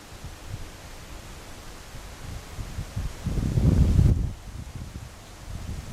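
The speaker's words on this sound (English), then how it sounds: "Wind. Wind." Wind gusts through trees on a forest trail, a soft broad rustle that builds into one stronger gust midway before easing back to a low steady background.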